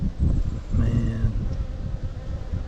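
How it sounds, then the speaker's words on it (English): Honeybees buzz around a strong beehive frame pulled from a hive, a close, continuous drone with a louder wingbeat whine passing near the microphone midway, alongside light wind noise. "They get so many bees,"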